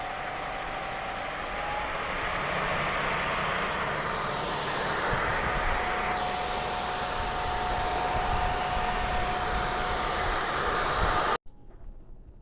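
An AICHESON K1 gaming laptop cooling pad runs its fans at 2800 RPM, making a constant, loud airy whir with a faint tonal whine that stops abruptly near the end.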